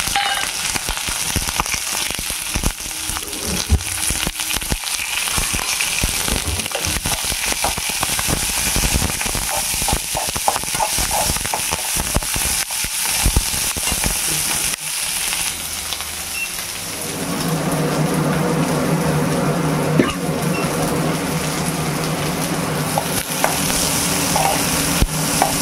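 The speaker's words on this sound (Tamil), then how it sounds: "இப்போ நல்லா வதக்கணும்." Onion, garlic and curry leaves sauté in a pan, a continuous loud sizzling hiss with frequent scraping stirs in the first half, then a steadier frying rush with a faint hum beneath it.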